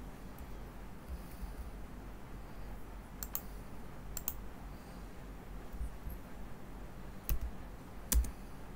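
Scattered, quiet clicks of a computer mouse and keyboard while someone works in an Excel spreadsheet, with a few sharper clicks spaced seconds apart over a faint background hiss and no talking.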